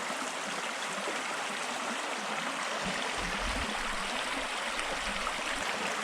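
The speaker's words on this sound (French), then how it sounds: "avec peu de chance, on a une petite rivière, un petit ruisseau." A small stream in the Belgian countryside flows steadily with a dense, continuous rushing and babbling, loud and close, with no voices.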